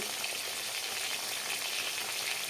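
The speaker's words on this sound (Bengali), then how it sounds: "মাছগুলো এখন ভাজা হতে থাক" Pieces of katla fish fry in hot oil in a pan, giving a steady, dense sizzle that stays loud and even throughout with no voices.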